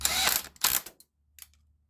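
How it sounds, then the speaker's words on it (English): An impact wrench zapping a nut on the starter of a 2002 Toyota Solara SLE, two quick close mechanical bursts of whirring hammering, then a faint short rattle, in a quiet garage. "I'm gonna take my impact, give it a couple zaps."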